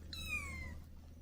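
A close kitten gives one clear, drawn-out meow that slides downward in pitch, over a low steady background hum, with no talking.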